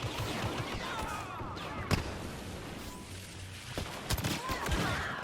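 Blaster and pistol fire in Star Wars Battlefront, a steady stream of rapid shots and sharp bursts over constant battle noise, with a few louder nearby cracks standing out.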